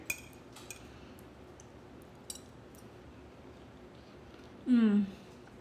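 A fork clinks and scrapes against a pan of keto Texas sheet cake with pecans, a few sharp light metallic taps spread over several seconds in a quiet room, then a voice speaks near the end.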